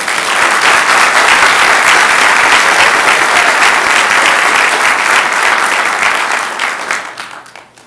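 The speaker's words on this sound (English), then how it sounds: "Why don't we give him a round of applause?" An audience at a keynote event gives sustained, loud applause for a retiree after his 32 years of service, a dense wash of clapping that fades out near the end.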